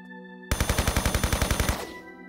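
MP5 submachine gun fire in Tomb Raider III Remastered: a single loud rapid burst of about a dozen evenly spaced shots lasting just over a second, then a ringing decay over faint background tones.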